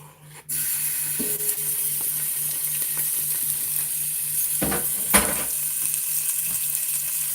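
Cubed beef skirt steak sizzles steadily in a pan, a loud continuous fry starting abruptly after a brief quiet moment, with a sharp spatter or clatter near the end and no talking.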